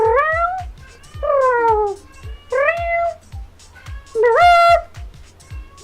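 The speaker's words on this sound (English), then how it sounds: "My cat's meowing." A pet cat meows several times, with drawn-out, rising and falling calls and one louder, higher cry near the end. Low rhythmic thumps run steadily underneath.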